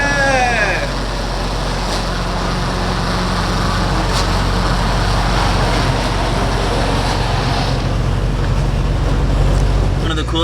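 A Nissan car creeps away after the brakes are released, with no throttle applied, heard as a loud, steady, broadband rumble of engine and road noise that holds constant throughout.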